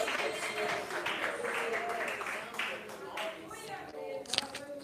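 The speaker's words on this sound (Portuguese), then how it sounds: "Mais forte as palmas." Congregation clapping along in a church service, brisk rhythmic handclaps mixed with voices singing and talking over them, fairly loud and continuous.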